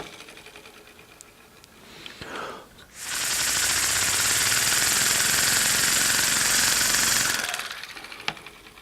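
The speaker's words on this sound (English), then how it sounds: "It is like a real engine sound." A small Ugears wooden model pneumatic engine starts up with a loud, steady rapid chatter, running evenly for several seconds before cutting off, with faint mechanical clicks before and after.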